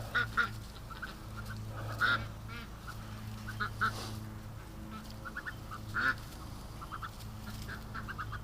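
A rescued pet duck gives a run of short, nasal quacks or honks, repeated in uneven bursts at close range over a faint background hum.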